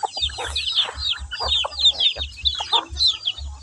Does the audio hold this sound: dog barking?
no